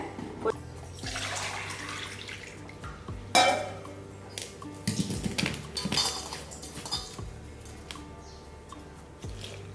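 Idli batter is stirred with salt in a metal vessel: clinking spoon-on-pot scrapes and wet squelching sounds come close and fairly quiet, with no talking.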